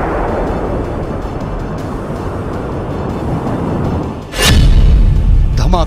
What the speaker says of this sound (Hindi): धमाका नंबर 1